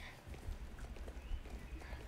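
A horse gallops in the online game Star Stable Online, a faint, soft rhythmic clip-clop of hooves under a low, muffled background.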